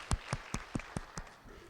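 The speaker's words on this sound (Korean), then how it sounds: "우리 받으신 주님께 감사의 박수" A church congregation claps in a short, quiet patter of about six even claps that fade out near the end, with no voices heard.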